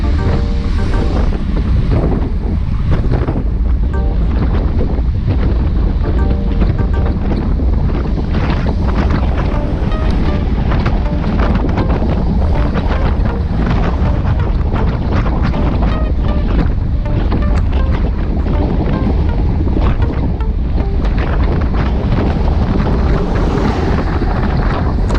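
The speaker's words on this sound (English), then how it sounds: "I think the wind has shifted to the left more." Loud, constant wind roaring and buffeting against the microphone during a group bicycle ride in rain, a heavy rushing noise that never lets up.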